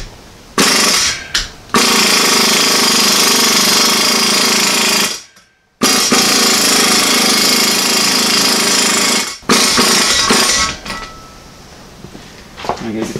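Impact wrench hammering on exhaust manifold bolts of a 1995 Ford F250, loud close bursts of rapid rattling impacts with short pauses between them, and a brief voice near the end.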